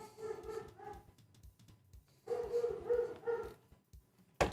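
A dog barks outside in two bursts of several quick, tonal barks each, somewhat distant and faint, separated by a quiet pause, with a sharp click at the end.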